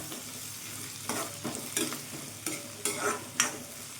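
Garlic and ginger sautéing in a pan for paneer butter masala, a steady close sizzle broken by several scraping stirs of the spoon at irregular moments.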